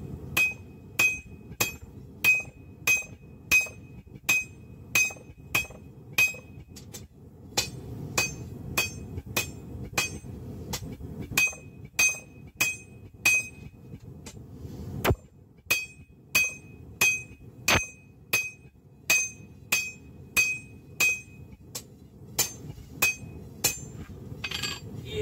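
Steady hammer blows flattening a heated metal end piece so it can take screws for a rustic oak end table, sharp ringing strikes in quick regular runs with brief pauses between, loud and close.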